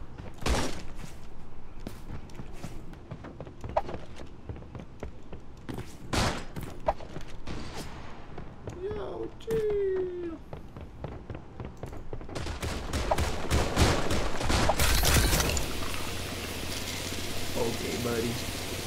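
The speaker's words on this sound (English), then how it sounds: "I knew someone was shooting, but I didn't know who." Rapid gunfire volleys in the shooter game Creative Destruction, sharp repeated shots throughout, denser near the end, with a voice speaking over the action.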